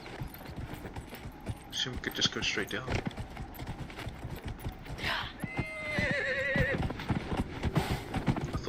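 Rhythmic horse hooves clip-clopping at a steady gallop in the video game Dragon Age: Inquisition, with a whinny partway through and someone talking over the hoofbeats.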